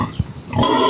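A sow gives short, low grunts close by, brief and rough against a steady background noise.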